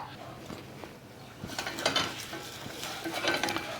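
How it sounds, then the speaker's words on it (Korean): Chopped onions sauté in olive oil in a pan, a soft sizzle that grows louder halfway through as a utensil stirs and scrapes, close by with no voices. "자, 양파를 볶으면서"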